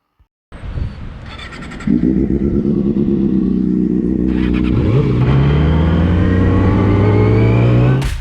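A Yamaha R6 sport motorcycle engine cranks and catches, settles into a loud close idle, then rises in pitch as it revs up, with no talking.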